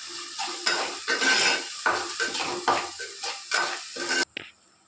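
Semiya keema upma with tomato and ginger paste is stirred in a pan in rhythmic bursts. Each burst brings a scraping sizzle and metal clinks, and the stirring stops abruptly just before the end.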